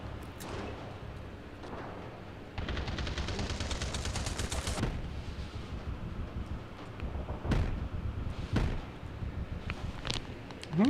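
Gunshots in the VR shooter H3VR: a rapid automatic burst of shots followed by scattered single sharp reports, fairly loud over a rumbling background.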